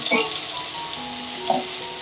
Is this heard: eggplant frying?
yes